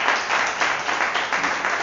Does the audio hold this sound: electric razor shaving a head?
no